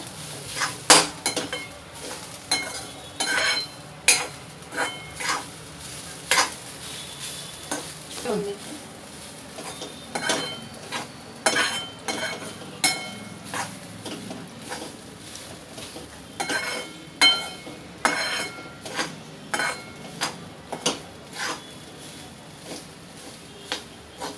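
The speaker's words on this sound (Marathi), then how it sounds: "हे बघा मी त्या सतत परतत राहते" Grated fresh coconut being stirred in a pan over a low flame for Malvani vatan: repeated close scrapes and clinks of a spoon against the pan over a soft sizzle, in an irregular steady rhythm with no talk.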